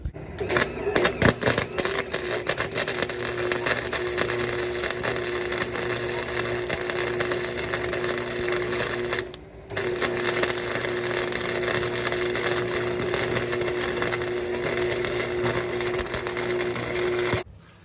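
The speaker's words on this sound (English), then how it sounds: "So I'm gonna get back to welding on this" Steady crackling buzz of metal welding on a Nissan D21 Hardbody truck grille, running continuously for a long stretch with a brief pause partway through, close and fairly loud.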